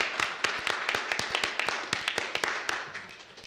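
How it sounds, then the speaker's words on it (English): Applause from a small crowd at a city commission meeting, a steady patter of close, crisp hand claps lasting several seconds and fading slightly toward the end, with no talking over it. "just give her a round of applause"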